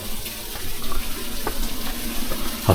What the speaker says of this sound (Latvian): Tas ir tas ūdenskritums.